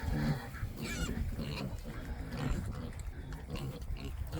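Pigs grunting on a family farm, a steady low rumble of snorts and grunts running throughout at moderate loudness with some speech-like murmur mixed in.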